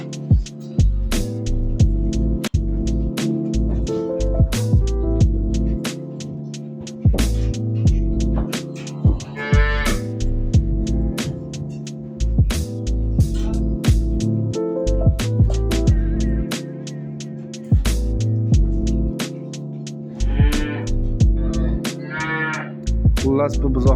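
Purebred Swedish calves, one week to fifteen days old, at a livestock sale mooing repeatedly, loud and close, with several overlapping calls over a steady low hum and occasional thumps.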